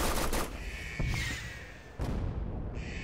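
Guards open fire in the Henry Stickmin Collection video game. Loud bursts of rapid gunfire come in two or three volleys, each cut off sharply, with brief lulls between them.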